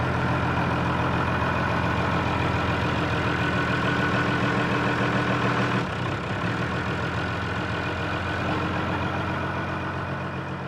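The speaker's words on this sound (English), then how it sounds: "about to use his tractor to just simply move one of these bales of hay" A farm tractor's engine runs steadily while it moves a bale of hay, a constant rumbling drone with no voices.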